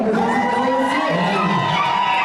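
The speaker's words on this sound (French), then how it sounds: "Est-ce qu'on peut les applaudir plus fort?" Wedding guests at a lavish celebration raise a loud, continuous crowd roar of cheers and shouts, with bright whoops rising over the din throughout; no distinct clapping stands out.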